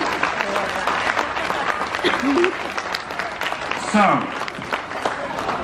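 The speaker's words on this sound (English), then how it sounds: "So please clap if you felt that." Dense, loud clapping from an audience at the Kansas State Fair fills the whole stretch with a continuous wash, and a voice briefly speaks over it.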